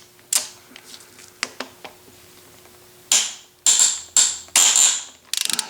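Ratchet clicks from a 13mm socket loosening a bolt on a Mercedes 560SL M117 V8 engine: a few sharp early clicks, then four or five loud close bursts of rapid ratcheting, ending in a quick rattle.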